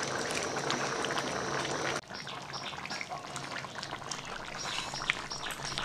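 Fried paneer cubes go into a simmering masala gravy with a little yogurt, giving a steady bubbling sizzle that shifts and softens as they land, with no voices.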